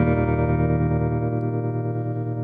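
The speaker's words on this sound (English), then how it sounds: "that's more of like a tremolo" Electric guitar run through an AmpliTube 5 amp simulation with a tremolo effect, a loud sustained distorted chord pulsing steadily in volume, played alone without talk.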